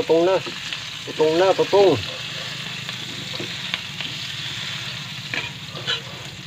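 Garlic sautés in a hot pan for Filipino cooking, a steady, close sizzle and fry. A voice rises briefly over it in the first two seconds, then the sizzling continues alone.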